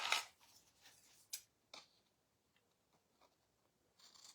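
Scissors snip through paper card pockets for a Christmas booklet, a few crisp close cuts in short bursts separated by quiet pauses.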